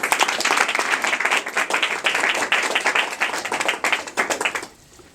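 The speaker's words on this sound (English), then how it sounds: "please give him a round of applause" A small audience applauds a safe cracker being introduced, with distinct individual claps in an uneven rhythm that carry on for about four seconds and then stop abruptly.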